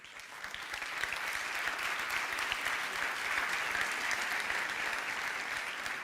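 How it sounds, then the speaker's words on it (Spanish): Audience applause in a classroom-style talk for teachers, dense steady clapping from a crowd, fairly even in level from start to finish and heard alone without speech. "Un aplauso."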